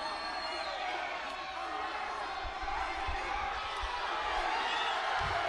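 A wrestling arena crowd roars at a distance in a steady wash of cheering, with faint thuds from ringside under a commentator's voice.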